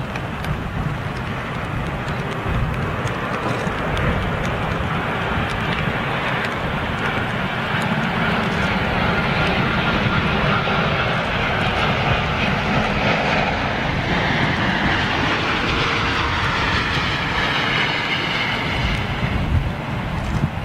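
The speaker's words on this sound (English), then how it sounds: "Looks like TUI's Dreamliner." A TUI Boeing Dreamliner jet lands, its engines roaring loud and continuous for twenty seconds as the thrust reversers come on, a broad sustained rumble heard from a distance outdoors.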